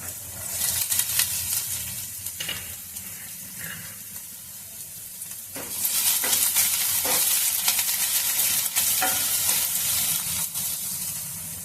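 Chopped garlic and ginger hit hot oil in a pan for chili paneer, giving a loud continuous sizzle and spatter that swells louder partway through, with occasional stirring scrapes and no talk.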